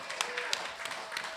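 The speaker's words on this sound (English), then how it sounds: "Give them a round of applause" Comedy club audience at a stand-up set claps, crisp scattered hand claps over a steady crowd wash, close and moderately loud, with talk faintly underneath.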